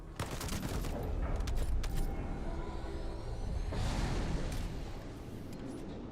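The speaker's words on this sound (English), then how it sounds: "You just press C and it calls down a airstrike" Airstrike called down in the sci-fi shooter game The First Descendant, a dense roar of rapid explosions and gunfire-like blasts rumbling continuously for several seconds, loud and close, with a second swell of impacts near the end.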